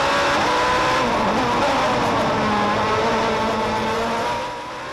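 Onboard engine of the France A1GP race car at the Durban street race, a loud continuous high-revving drone with shifting pitch, close to the car and sustained throughout, easing off slightly at the end.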